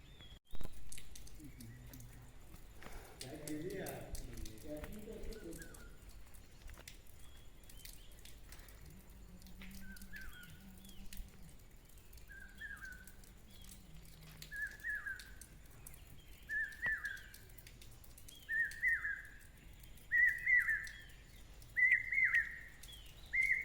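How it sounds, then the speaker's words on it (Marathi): Birds call in a rural Konkan paddy field ahead of monsoon rain, a series of short, clear chirps repeating at a steady pace and growing slightly louder, against quiet outdoor ambience with a brief rustle early on. "बघा पावसाकडे पाखरू बोंबाटता आता"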